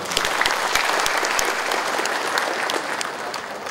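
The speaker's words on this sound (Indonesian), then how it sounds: "Tepuk tangan untuk orang." Audience at a Bandung community coordination meeting clapping, a dense, steady round of applause that holds at full strength before easing slightly toward the end, with no voices over it.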